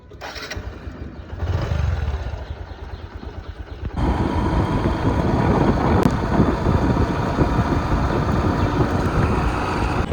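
A motorbike is started with the self-starter and then ridden off, with a brief crank and catch giving way to a loud, steady engine drone mixed with heavy wind rush close to the microphone.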